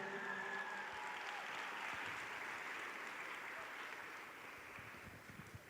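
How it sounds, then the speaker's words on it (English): A dance-competition audience applauds scholarship winners in a sustained, fairly distant round of clapping that stays even and then eases slightly toward the end, with no voices over it. "Give our minis a nice big round of applause."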